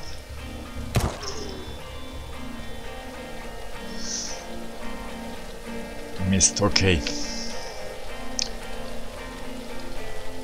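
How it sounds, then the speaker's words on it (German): Steady rain patters on surfaces in the survival video game Surroun Dead, with a few sharp thuds, while someone talks over it. "Es regnet, was ich hasse im Spiel."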